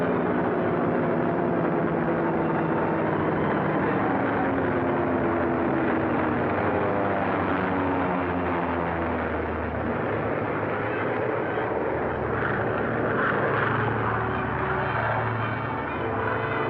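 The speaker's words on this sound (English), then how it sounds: "Bombers went out, and 6 are coming back." Returning WWII bomber aircraft drone over an airfield in the Aleutians, a continuous loud engine hum with slowly shifting pitch, heard through old film-recording quality with no talking.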